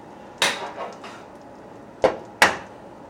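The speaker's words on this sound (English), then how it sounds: "now you take your 2 eggs, crack one" Two eggs are cracked in a kitchen, giving a few sharp, close taps against a hard edge, one early knock and then a quick pair of cracks, with faint handling between and no talking.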